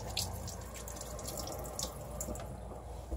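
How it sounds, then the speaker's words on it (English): Water runs from a sink tap over hands being washed, a steady close splashing with scattered drips, fairly quiet and continuous, no voices. "I'll wash them again right in front of you."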